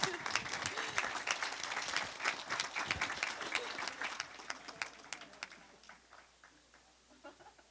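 A crowd applauds at a coronation ball honoring the 2022 Colleen and her court, dense clapping that thins into scattered claps and fades toward the end.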